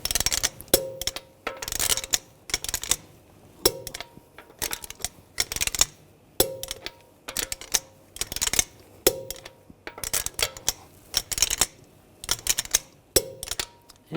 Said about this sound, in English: Now we're going to torque the lug bolts to 89 foot-pounds in a cross pattern to tighten the wheel down evenly.